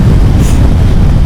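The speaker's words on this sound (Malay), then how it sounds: "lebih kurang motor naked lah angin dia. Sebab windshield dia pendek kan." Heavy wind roar buffets the microphone while a KTM 890 SMT motorcycle with a short windshield cruises at highway speed, a loud, steady low rumble that fills the whole moment without speech.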